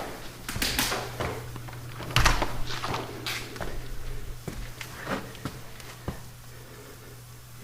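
A door in a soundproofed room built within a room is handled, giving several soft knocks, clunks and a sharper thud amid quiet room noise and light movement.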